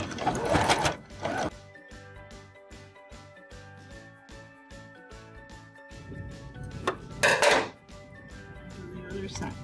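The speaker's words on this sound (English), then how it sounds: "Now we're gonna go back and top stitch all the way around." A sewing machine top-stitches fabric with a steady, close mechanical chatter of rapid needle strokes, stopping and restarting midway, with soft rustling and clunks of handled fabric at the start and around the pause.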